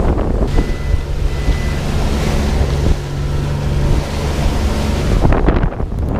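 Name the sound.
strong wind and rough choppy sea while sailing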